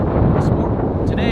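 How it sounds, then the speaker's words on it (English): Strong wind roars across a microphone outdoors in Burbank at a whip convention, a loud, steady low rumble with no break. "Sorry about the wind."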